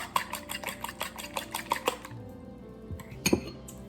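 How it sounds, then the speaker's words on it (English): Eggs being whisked in a bowl for egg waffles, a quick run of rhythmic metallic clinks against the bowl that stops partway, followed by a single louder clatter, close and clear with no talk. "I'm going to go ahead and whisk them up just a little bit just to get them started"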